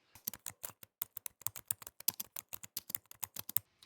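Rapid, uneven typing on a computer keyboard, with close, crisp keystrokes clattering in quick bursts and no voices.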